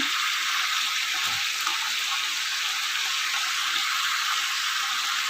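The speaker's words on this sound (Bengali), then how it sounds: "আলু কুমড়ো চাপানো হয়ে গেছে, চাপা হয়ে গেছে, দেওয়া হয়ে গেছে তেলে" Potato and pumpkin pieces fry in hot oil, giving a steady, even hiss that stays close and constant throughout, with no voices over it.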